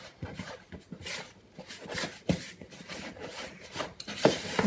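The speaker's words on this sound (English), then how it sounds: "Mix all that until the egg is all in." Spoon scraping and rubbing through Welsh cake dough as an egg is worked in, a steady close-up rasp with irregular strokes and small knocks against the bowl, no talking.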